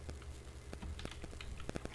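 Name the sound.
typing on a computer keyboard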